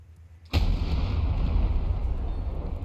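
Tank cannon shot in a Minecraft combat game blowing up an enemy turret: a sudden loud close boom after a brief near-silence, followed by a long rumbling roar that stays heavy to the end.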